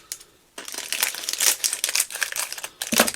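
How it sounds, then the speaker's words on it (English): Loud, continuous crinkling and crackling of plastic packaging on a resin craft starter kit being pulled open up close, after a brief quiet start. "this is going to be some noisy unwrapping"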